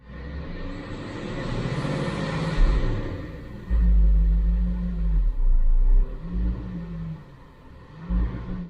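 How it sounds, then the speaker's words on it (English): Supercharged Range Rover V8 engine idling with a deep low rumble that rises and falls in repeated surges as it drops back to idle, loud and close with no voices. "it turns out we have a surging issue when the engine's going back to idle"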